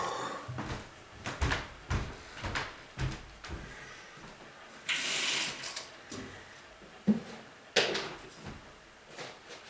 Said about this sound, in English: Let's close my door.